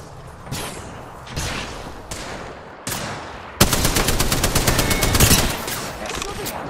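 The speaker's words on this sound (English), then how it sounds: "They're shooting at me." Gunfire in the Apex Legends video game comes in several bursts, with sharp single shots first and then a loud, rapid automatic volley of evenly spaced rounds.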